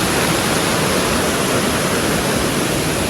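Water rushes steadily under a bridge at Oliyappara waterfalls, a hidden spot in Anaikatti near Coimbatore, as an unbroken, loud, broadband roar with no pauses.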